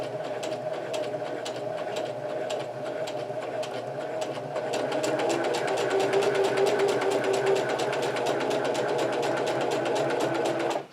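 A sewing machine stitches a seam in fabric with a steady, close mechanical whir and a fast repetitive needle rhythm, continuing without a break and growing slightly louder partway through.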